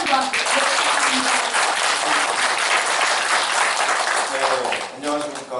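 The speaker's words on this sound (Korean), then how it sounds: "우리 화랑의 큰 박수 한번 부탁드립니다." A crowd at a rally applauds a high school student speaker from Inheon High School, giving sustained, dense clapping for several seconds while voices break through near the start and again toward the end.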